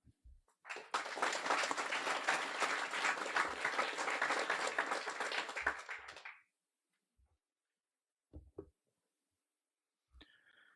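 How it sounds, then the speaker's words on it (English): An audience at a guide dog school graduation gives dog raisers a burst of applause, a dense roomful of clapping for about six seconds that cuts off sharply, followed by a few scattered thumps and near silence. "let's give them a big round of applause for all of their hard work"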